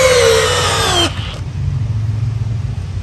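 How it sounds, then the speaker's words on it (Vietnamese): A Milwaukee 3404-20 12V cordless drill whines loudly at high speed, then cuts out abruptly. A lower mechanical rumble carries on after the stop. "Máy khoan 3 chức năng, pin 12V, Milwaukee 3404-20"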